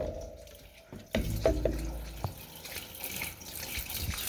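Water trickles and gurgles through rain barrel plumbing during a light rain, with a few knocks and splashes early on, then a steady close rushing flow.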